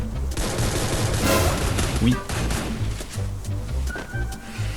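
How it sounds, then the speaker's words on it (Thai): Rapid gunfire in a video game, bursts of shots crackling over a steady background rumble and rustle, with people talking over the action throughout. "คนเขายิงกันอยู่ไม่รู้เรื่อง"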